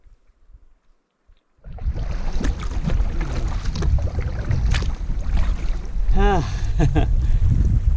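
Wind blowing down a lake toward a solo paddler in a canoe, a sustained broad rush buffeting the microphone, loud and close after a brief quiet start, with faint water and paddle sounds beneath.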